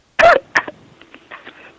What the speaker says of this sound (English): Oh man, are you coughing?